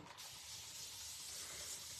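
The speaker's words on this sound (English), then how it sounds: "All right, let me spray all my transfers." Spray bottle misting craft transfers, one continuous soft hiss of spray lasting about two seconds, close and fairly quiet, with no talking.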